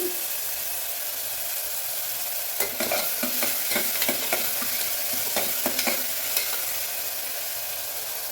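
Steady sizzling of tomato and curry leaves sautéing in a pan, with a few scraping stirs in the middle; close and continuous, no talking.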